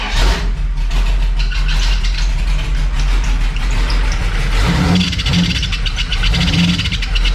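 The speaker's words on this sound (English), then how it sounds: "we got a little power steering squeal" A Dodge Cummins diesel engine running close by at a steady idle, loud and continuous, with a faint high power steering squeal riding over the engine drone.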